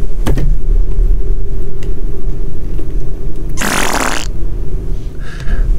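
A fart sound effect goes off in a single loud, rasping burst of about half a second, over a steady low hum and background rumble, with no talking.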